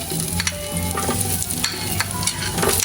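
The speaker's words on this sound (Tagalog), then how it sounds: "Tayo po muna ay maggigisa po ng ricado." Garlic sautéing in hot oil in a pan while cooking fish, heard as close, steady sizzling with scraping stir strokes and small clinks, with no speech.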